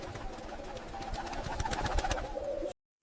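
Pigeons coo just outside, a close cluster of soft, throaty calls running over about two and a half seconds, then cutting off abruptly into silence.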